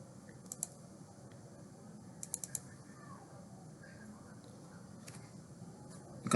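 A computer mouse and keyboard click while beams on a concrete drawing are measured: a few faint, sparse clicks, single and in a quick short cluster, over a quiet room hum.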